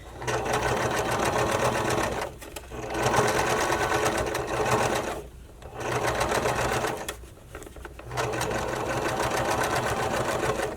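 A sewing machine stitches bra channeling in close, fast runs of rapid mechanical chatter, stopping briefly three times between bursts before starting again.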